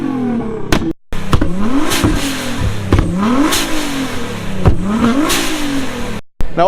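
A loud supercar engine revs repeatedly at a car show, climbing and dropping in pitch through several sharp blips with brief cut-offs, close and dominant with no talk over it.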